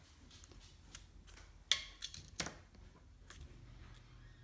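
Scissors snip through small rhinestone pieces on a craft table, giving a few quiet, sharp cuts spaced apart against a low background hum.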